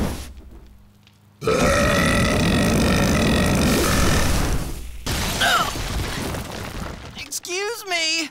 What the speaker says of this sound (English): I give that burp 4 stars.